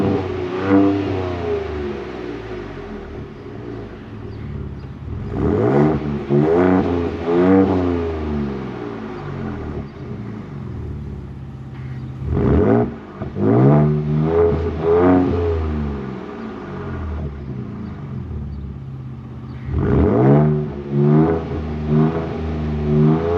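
A 2024 Ford Ranger Raptor's V6, in Baja mode, is revved repeatedly in loud, close bursts, each one swelling and falling back to a burbling idle between pulls.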